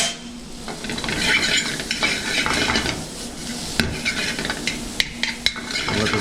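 Homemade spaetzle browns in a frying pan with a steady sizzle, while a utensil stirs and scrapes against the pan and gives a few sharp clinks near the end.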